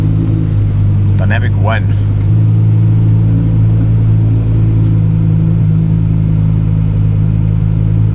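Straight-piped Audi R8 V10 idling with a deep, loud, steady rumble that swells slightly after a couple of seconds, with people talking over it.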